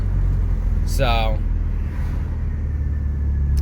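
A PT Cruiser running a Megasquirt-managed engine rumbles steadily as the car comes to a stop, a low continuous drone under a short spoken word and a brief passing whine.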